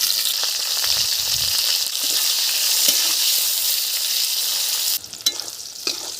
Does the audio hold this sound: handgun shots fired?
no